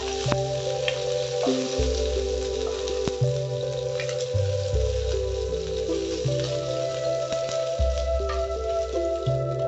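Prawns fry in oil in a pan with a steady close sizzle and scattered crackling pops, while a low droning background hum shifts in pitch underneath; nobody speaks.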